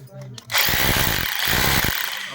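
A drill machine with a number 8 bit starts up loudly and keeps drilling close by, a high whine with pulsing bursts as it bores into a surface while setting up a DTH signal.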